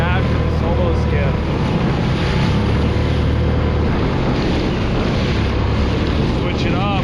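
Choppy ocean waves slap against a small solo skiff offshore of San Diego in a south wind, with constant loud wind buffeting and rushing water throughout.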